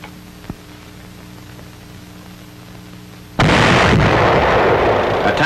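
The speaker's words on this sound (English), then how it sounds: "A tank destroyer goes into action." A tank destroyer's gun fires in WWII France in 1944: after a quiet stretch with faint background hum and a single small pop, a sudden loud blast breaks out and roars on for the last two seconds.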